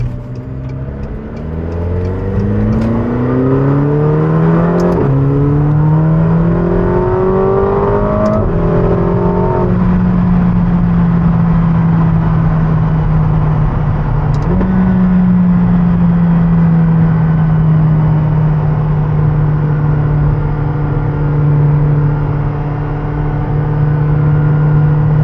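McLaren 720S engine while driving on the Pacific Coast Highway: several quick upshifts with rising engine pitch early on, then a steady loud drone at cruise with one more gear change midway.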